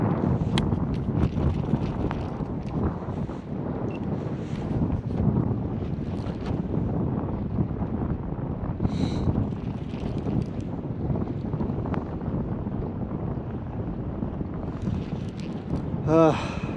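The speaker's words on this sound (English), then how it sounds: "Been fighting this wind all day." Strong wind buffeting a fishing boat out on the water while catfishing, a loud constant roar of wind noise across the microphone with water sloshing beneath, steady for the whole stretch.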